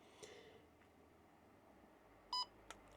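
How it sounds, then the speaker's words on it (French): A single short electronic power-off beep from a Camp Snap camera sounds in a quiet room, with a faint click just after. "Un bip, hop, l'écran s'éteint, l'appareil photo est éteint."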